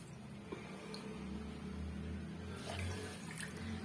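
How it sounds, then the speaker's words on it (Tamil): Water pours steadily into a pan holding two cups of sugar, a low, continuous splashing gurgle heard alone and faintly in a kitchen. "இப்ப அதே கப்பால 2 கப் அளவுக்கு தண்ணி சேர்த்துக்கலாம்"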